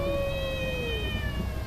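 Cats fighting outdoors at night, a drawn-out caterwauling yowl with wavering harmonic pitch that slowly slides downward, loud and close over a steady background hiss.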